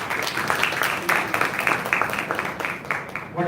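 Audience applause after a panel discussion at a college E-Summit, a steady patter of many hands clapping that keeps going throughout and fades slightly at the end.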